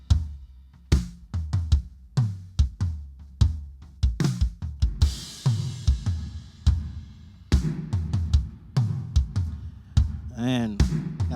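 Live drum kit played dry through a Behringer X32 mixer with the ambience effect removed: punchy kick, snare and tom hits in a busy groove with cymbal washes, close and unreverberated.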